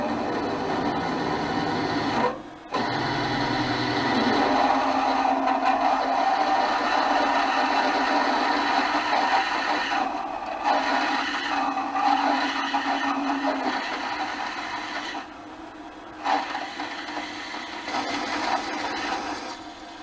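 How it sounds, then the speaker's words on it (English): A drill bores out a Triumph/BSA motorcycle gear shaft to 10mm, giving a steady loud whirring grind that runs almost without pause, with brief dips where the bit eases off. "now we'll drill out to 10mm."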